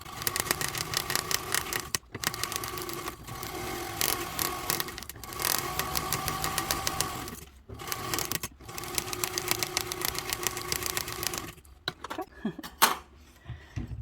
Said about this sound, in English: now what we're going to do is we're going to sew these together with a 1/8 seam